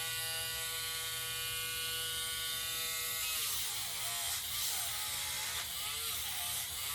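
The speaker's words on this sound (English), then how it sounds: "I do like this low setting on this Dremel" A Dremel nail grinder on a low setting buzzing steadily during grooming of a Yorkie, a close, continuous whine that wavers in pitch as it presses against the nails.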